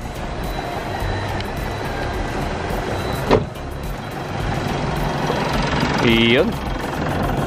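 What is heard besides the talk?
Mitsubishi Montero Sport engine running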